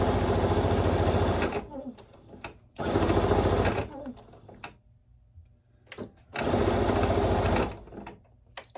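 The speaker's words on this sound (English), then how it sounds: "what I will do is sew about 3 inches down, something like that, and then do a back stitch" A sewing machine stitches quilt binding in three long steady runs, loud and close, with pauses and small handling clicks between them.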